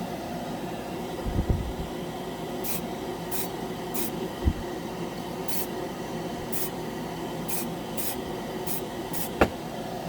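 Titans Hobby primer sprayed from an aerosol can onto a scale model piece, with a steady close hiss that carries through the whole stretch, a few short sharp bursts and occasional light knocks, and no talking.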